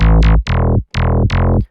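Growl bass run through a Vocodex preset in a future house production, four punchy, loud notes with a gritty vocal-like sweep on each attack and short gaps between them.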